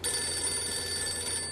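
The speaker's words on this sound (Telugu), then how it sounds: "ఇప్పుడు నీకు ఫోన్ వస్తుంది చూడు." A telephone rings steadily and alone, a continuous electronic tone lasting a moment with no voices over it.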